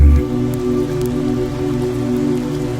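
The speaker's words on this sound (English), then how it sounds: "you find it deeply relaxing to watch the rain" Steady rain falls on a wet afternoon outside a tea room, a dense, even patter close by with no break across the few seconds and no voices.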